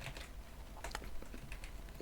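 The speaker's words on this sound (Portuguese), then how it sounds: "Aí que eu vou atacar meu teclado." Someone types on a computer keyboard during C# coding, giving a quick, uneven patter of soft, close keystrokes with no talking.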